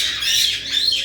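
A pet bird squawks loudly and harshly right next to the listener, one sustained rasping call with no voices over it.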